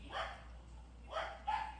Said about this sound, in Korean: 푸찌 너무 짖는다